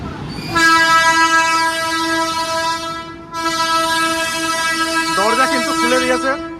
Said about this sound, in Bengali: শিয়ালদা কৃষ্ণনগর এসি লোকাল রানাঘাট স্টেশনে প্রবেশ করেছে।